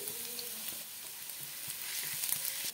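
Chopped garlic and ginger fry in a little hot oil for Dhaba-style chilli paneer: a steady, close sizzling hiss with faint crackles, continuous throughout.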